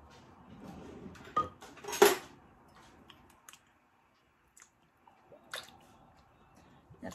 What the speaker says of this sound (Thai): อยากแซ่บเนื้อก็ใส่น้ำปลาสองช้อนครึ่งค่ะลงไปค่ะ